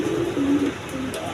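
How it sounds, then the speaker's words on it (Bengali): A pair of Bombay pigeons at a farm coo in a low, steady rolling murmur, close and clear, with a few brief soft chirps near the end and no talking. "এখানে আরেক পেয়ার বোম্বাই কবুতর আছে"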